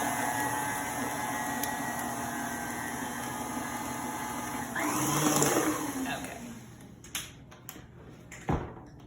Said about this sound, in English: So now I'm just going to mix this up.